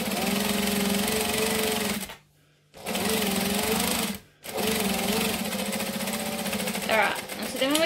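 Sewing machine stitching drill fabric for a backpack, a steady mechanical whirring hum in two short pauses between three bursts of stitching, close and prominent.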